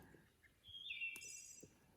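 A bird in the woods gives a brief, high, electronic-sounding whistled call with a sharp rising note, faint against a quiet forest background.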